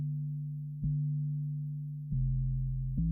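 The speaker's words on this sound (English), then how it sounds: "Without the compressor and the saturator, it sounds like this." Synth bass one-shot played dry without compressor or saturator: three deep, smooth, sustained low notes, each starting with a soft click and held steady, clean and moderately quiet, with no other sounds.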